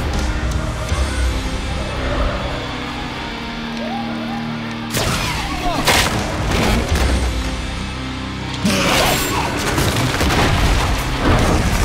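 Game gunfire from Dante's twin pistols Ebony and Ivory in Devil May Cry, loud booming bursts of shots that come in two dense clusters over a rumbling game backdrop.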